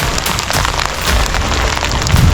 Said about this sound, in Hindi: यहाँ लगातार ओले आपको चोट पहुँचा रहे हैं।